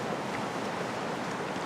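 Ocean waves wash continuously onto the Moroccan shore, a steady broadband roar of surf with faint wind, no distinct breaks standing out over the short stretch.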